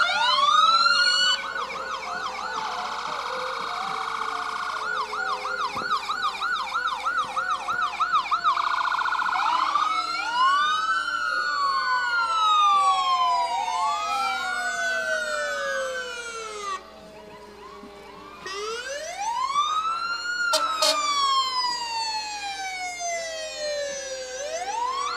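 BC Ambulance sirens wail and yelp through a winter carnival parade, several overlapping siren patterns sweeping up and down loudly and close, shifting between fast warbles and long rising wails.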